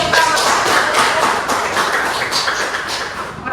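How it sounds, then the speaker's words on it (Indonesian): A class of students applauding in a classroom, a lively round of uneven hand claps close by, fairly loud and steady before easing slightly. "baik, berikan tepuk tangan."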